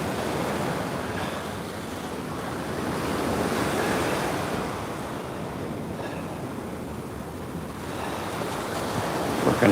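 Ocean surf washing in steadily at Coney Island beach at high tide, with water covering a partition wall; continuous broadband wave rush with gentle swells and some wind noise, no talking.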